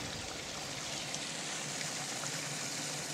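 Water running in a small stream on open land, a soft continuous rushing and trickling, fairly quiet and unchanging, with no one speaking.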